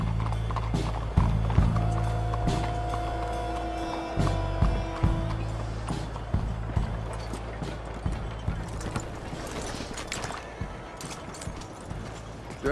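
Horses clip-clop at a walk as riders hitch up in Red Dead Redemption 2, steady hoof clatter with tack and mechanical rattles, close and continuous, a faint whinny and a brief voice mixed in.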